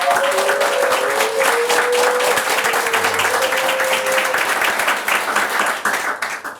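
Studio audience applauding warmly on a Big Brother Naija Shine Your Eye talk show, a dense, steady wash of clapping close up that holds throughout before thinning slightly at the end.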